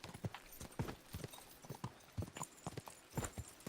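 Horse hooves clip-clop steadily at a walking pace in the video game Kingdom Come: Deliverance II, close and regular, with faint background ambience and no talk.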